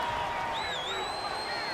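Stadium crowd at an NFL football game, Cowboys versus Falcons, a steady loud roar of many voices with a rising whistle-like tone, filling the whole stretch without pause.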